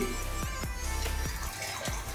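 Running water splashes and trickles close by, with a few bubbly drip-like plops as pumpkin leaves are rinsed under the flow.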